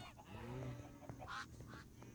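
Faint honking calls from video game geese over a steady background hum, a couple of nasal honks standing out near the middle.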